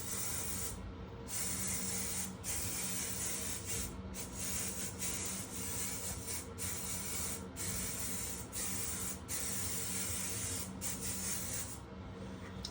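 Hairspray hisses from an aerosol can onto hair in a long, steady spray, close and continuous with brief pauses and no talking.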